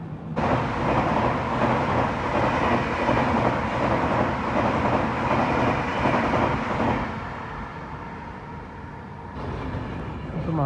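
Mahanagari Express train passing near Chunar on the main line, a loud, sustained rumble and clatter of wagons that eases for a moment and then swells again, with no voices.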